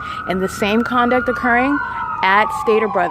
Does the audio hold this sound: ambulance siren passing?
yes